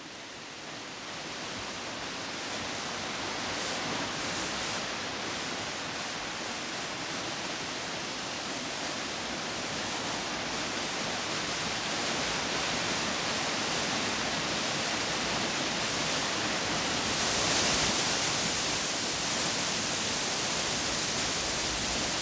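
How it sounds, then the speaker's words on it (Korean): Yongchu waterfall drops below a cliff in Korea with a steady, dense rush of falling water that holds unbroken for the whole span, full and roaring at close range, with no voices. "문간봉 남쪽 절벽 아래의 용추 폭포다."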